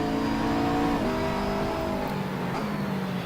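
An Audi race car in the Assetto Corsa racing game holds a steady, droning engine note that shifts pitch in stepped gear changes, heard from outside the car at constant loudness.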